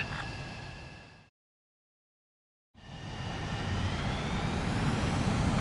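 Jet plane engine roaring in the Ace Combat 7 video game, a steady broad close rush that cuts out to silence partway through, then returns and builds.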